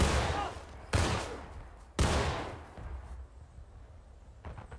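Musket volleys in the Civil War game War of Rights during a practice skirmish: three loud, sharp reports about a second apart, each tailing off into a long rumbling decay, followed by quieter distant shots.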